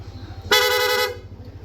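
A PIA horn fitted to a Yamaha Aerox V2 scooter sounds one loud, bright, buzzy blast of about half a second, set in rapid mode, over a low idling hum.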